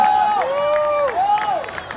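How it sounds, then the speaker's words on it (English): Audience at a drum-off championship in Singapore breaks into applause and cheering, a steady crowd roar with a loud sustained whistle or tonal call gliding over it, lasting about two seconds. "Audience, please give yourself a big round of applause."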